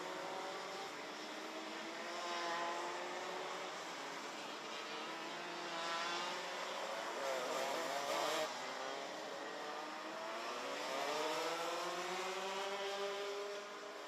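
Racing karts at the Genk circuit drone steadily past in a continuous, fairly loud whine, engines rising and falling in pitch as several machines pass at mid distance.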